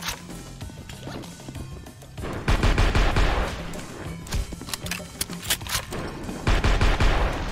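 Gunfire in the video game Maximum Action, rapid bursts of loud, close shots and impacts in clustered volleys separated by brief quieter gaps, with no speech.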